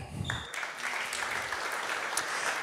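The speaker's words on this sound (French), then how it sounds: "Là aussi, je crois qu'on peut l'applaudir." Audience applause fills a conference hall at an AI and cybersecurity event, a sustained dense clapping from a large crowd that starts abruptly and stays steady and loud throughout, with no talking over it.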